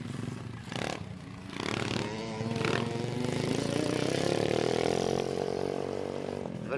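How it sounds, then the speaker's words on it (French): An MX-110 motocross motorcycle engine revs and climbs in pitch, loud and close, with a buzzing tone that rises steadily over several seconds. "Voici Manon, avec les MX-110"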